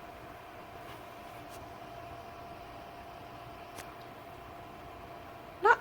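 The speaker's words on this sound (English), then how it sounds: "And here's the sound of the fan on." A duraflame freestanding electric fireplace stove heater with a 3D flame effect runs its fan, giving a faint, steady whooshing hum with a low drone throughout. A single small click sounds right at the end.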